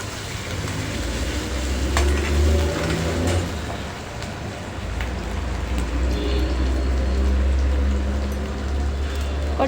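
Ginger-garlic paste fries in a pan while being stirred, a steady sizzle with scraping strokes over a low rumbling hum.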